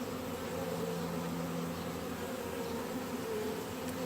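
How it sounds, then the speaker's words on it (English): Honey bees fan their wings around the entrance of a Flow Hive after a swarm capture, a steady close buzzing drone that holds at even loudness throughout, with no talking. "the bees are actually doing the whole flapping dance around the entryway, flapping their wings and dispersing the queen's scent"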